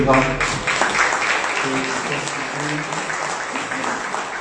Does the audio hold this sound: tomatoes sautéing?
no